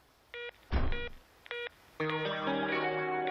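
A cartoon telephone is dialed with short electronic keypad tones, a clunk of the receiver between them, then a harsh layered tone pattern on the line.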